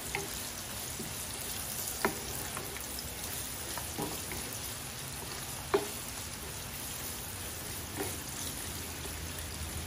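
Carrots sizzle and fry in a pot for sotanghon soup, a steady, low hiss that runs throughout with a few faint clinks of stirring and no voices.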